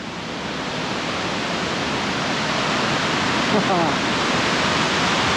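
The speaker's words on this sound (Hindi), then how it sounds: "और इस खूबसूरत नदी से बहता हुआ ये पानी" River water rushes steadily at Narhara waterfall in Dhamtari, a loud, dense, even roar throughout, with faint talk briefly audible.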